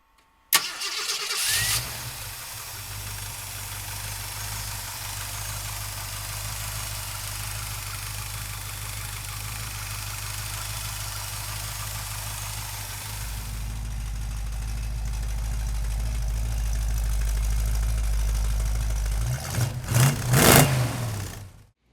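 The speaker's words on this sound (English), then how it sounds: "come on up and we'll fire it up for you right now" A 1968 Ford Mustang with a 390 V8 cranks and catches, then settles into a loud, steady rumbling idle close by; the exhaust note swells heavier partway through and ends with a couple of sharp revs before cutting off.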